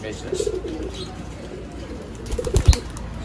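Pigeons at a pigeon sale in Bangalore cooing softly with a brief burst of flapping wings near the end, mixed with faint background voices.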